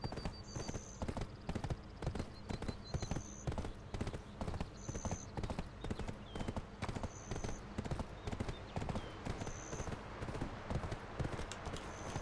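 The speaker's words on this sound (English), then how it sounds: "Actually, I'll just let my horse auto walk right now." Horse hooves clip-clop in a steady, even rhythm as a mount auto-walks in a video game, accompanied by recurring brief high tones and a faint background voice.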